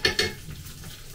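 Beef patties fry in a pan with a soft, steady sizzle, opened by two quick clinks of a utensil against the pan, close and alone without speech.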